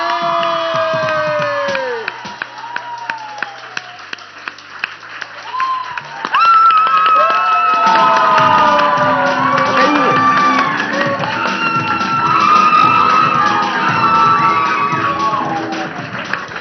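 A TV morning show studio audience bursts into loud clapping and cheering with whoops and shouts, following a stretch of voices and musical tones, and the noise stays full and close to the end.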